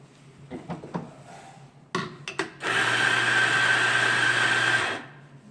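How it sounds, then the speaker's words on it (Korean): A few sharp clicks and knocks come first, then a coffee grinder whirs loudly through a batch of beans for about two seconds before cutting off into quiet. "지금 여기 보이는 그라인더에서 일단 원두를 받아 넣으시고 톡톡톡톡 쳐주신 다음에"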